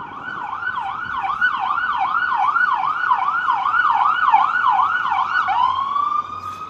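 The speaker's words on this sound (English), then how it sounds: "Second ambulance I seen today" A wailing ambulance siren sweeps up and down steadily, loud and close, then shifts to a rising tone near the end over faint traffic rumble.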